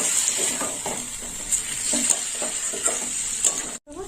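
Fish and eggplant curry sizzles in a pan as water is added, with a steady high hiss and repeated spatula taps and stirring scrapes, close, ending in a brief silence.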